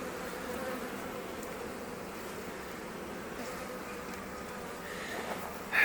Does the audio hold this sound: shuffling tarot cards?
no